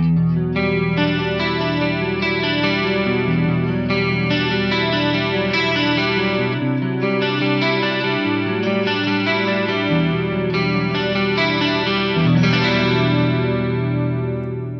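Clean electric guitar through a Fractal FM9 chorus emulating a Boss DC-2 (mode 3), lush and wavering, chords ringing steadily and shimmering throughout.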